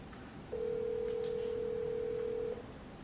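A single ringback tone sounds over a speakerphone, a steady hum lasting about two seconds against a faint room background.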